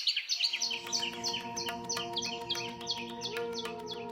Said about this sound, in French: Ce drôle de cri est celui d'une couturière à longue queue.